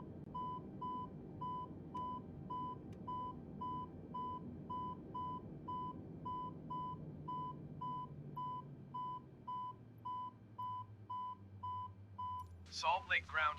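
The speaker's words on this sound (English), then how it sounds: "That beep just lets you know that your door is open." An aircraft door-open warning beeps in the cockpit of a parked plane with its engines still running: a long run of quick, evenly spaced electronic beeps over a low engine hum, ending in a brief burst of radio noise.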